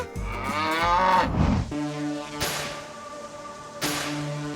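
A pregnant Simmental-Limousin crossbred cow lets out a loud, close moo, followed by two shorter lowing calls at steady intervals, with no talk.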